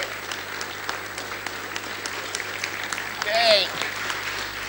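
Applause at a political meetup for the President of the Republic, scattered clapping heard under a steady background hum, with a brief tonal chirp near the end.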